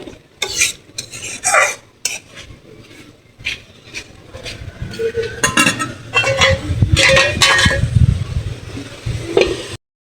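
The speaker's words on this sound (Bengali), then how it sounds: "আর কিছুক্ষণ ভালো করে কষাবো ইচা মাছ দিয়ে। এখন ভালো করে কষাই নিই।" Shrimp stir-fried in a pan with spices, a spatula scraping and rasping against the metal in uneven bursts over a soft sizzle, with a few louder stirring passes toward the end before it cuts off.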